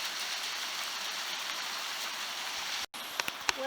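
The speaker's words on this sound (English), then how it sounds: "Super intense rain!" Steady, loud rain hisses without letup, briefly cutting out before resuming with a few light taps and clicks.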